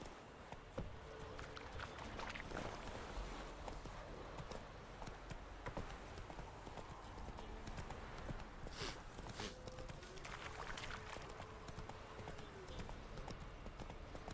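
Roach the horse in The Witcher 3 gallops along with quick rhythmic hoof clip-clops running steadily under a faint game soundscape, fairly quiet throughout.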